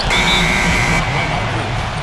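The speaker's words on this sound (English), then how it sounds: "And they turn over the 24-second buzzer, signaling the shot clock violation." A 24-second shot clock buzzer sounding in the NBA 2K14 basketball video game during a simulated playoff game: one loud, sustained electronic tone lasting about a second over steady arena crowd noise.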